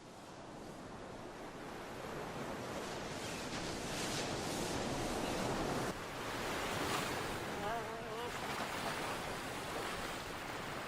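Sea waves break and wash continuously along the coast, a broad surging roar with gentle swells and some wind buffeting, heard from fairly near.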